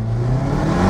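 Hyundai i30N with a DCT gearbox revving hard under throttle, a loud, close engine roar held steadily through a brief burst with no talk over it.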